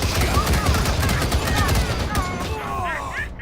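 Sustained gunfire rattles through a Wasteland 3 combat scene, loud and dense, with overlapping shots and a voice shouting over part of it before it thins out near the end.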